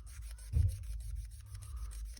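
A sanding stick rubbed over a Salvinos JR Daytona 500 model kit part to clean mold lines, a quiet, close, rhythmic scratchy rasp of repeated short strokes with one louder knock early on.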